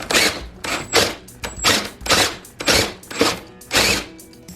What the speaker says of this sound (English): This is why I'm saying you need a very strong drill to do this, like an 18-volt drill.